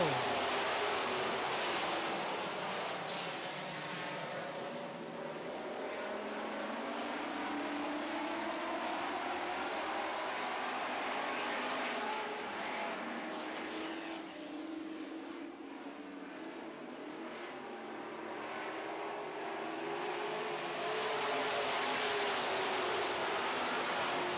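Super stock race cars on a track at the green flag start of a feature race, a steady distant roar of engines rising and falling with crowd and wind noise, no voices close by.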